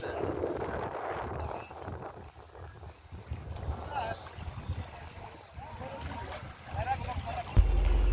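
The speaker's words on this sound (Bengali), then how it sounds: "আমি এই বোটে উঠলাম" A small boat out on a river in Bahrain, with wind buffeting and low engine and water noise running steadily underneath, a voice talking faintly at points.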